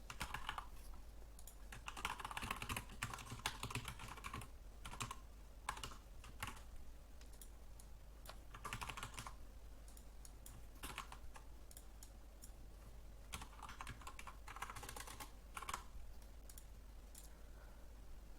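Quick bursts of typing on a computer keyboard, with soft rapid key clicks in irregular runs and brief pauses, close and fairly quiet throughout.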